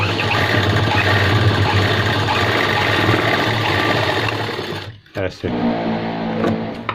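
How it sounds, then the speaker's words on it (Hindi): A sewing machine runs steadily, stitching the fabric strips of a pant wallet pocket with a continuous motor drone. Near the end it stops briefly, then restarts more quietly, with a voice talking over the stitching. "इन पट्टियों को सबको सीधा रख के हम सिलेंगे ऐसे"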